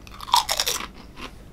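Close, loud crunching of Pringles Multigrain BBQ Sauce crisps, a burst of sharp crisp bites and chewing over about a second that fades into a faint last crunch, with no talking.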